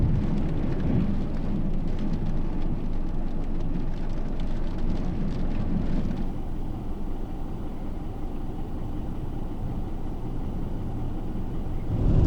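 Rain falls steadily during a road trip in Iceland, a dense, continuous hiss mixed with the low rumble of the car on the road, staying constant throughout.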